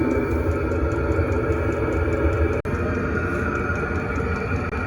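A steady, loud mechanical droning hum from a Chinese diesel heater's motor and fan runs without a break, with one brief click partway through.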